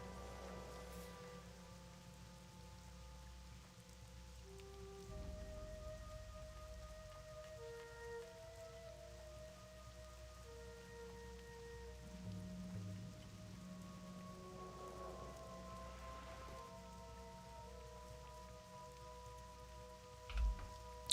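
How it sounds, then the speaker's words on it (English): Steady rain falls at night in the Wetlands zone of World of Warcraft, with soft continuous patter over low ambient game music tones. "The Wetlands at night in the rain."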